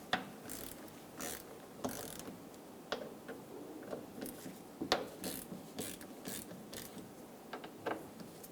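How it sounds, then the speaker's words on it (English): Screws being backed out of a door lock with a T30 Torx bit on a 2000-2007 Ford Focus front door: close, irregular ratcheting clicks and metallic ticks in quick bursts, with no speech. "Using a T30 bit, remove the 3 screws for the door lock."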